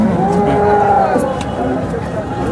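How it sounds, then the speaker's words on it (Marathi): Cow at a cattle market lowing in a long, drawn-out moo, loud and close, with market chatter and background voices underneath. "आपण बघू शकता शेतकऱ्याची गाय आहे"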